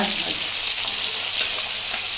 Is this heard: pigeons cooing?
no